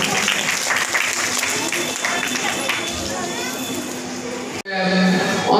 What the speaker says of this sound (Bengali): জোরে হাততালি চাইবো সবার কাছ থেকে